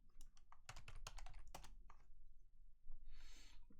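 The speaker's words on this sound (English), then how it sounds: "I'm just going to have to type in Amazon.com" Quick, soft keystrokes patter on a computer keyboard in irregular bursts, close and quiet, with no voices.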